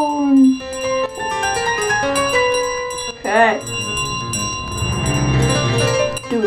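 Gold bell ringing in Untitled Goose Game's model village level: a sustained, clear metallic ringing with layered tones throughout, loud and mixed with other game sounds and a brief wavering honk-like call midway.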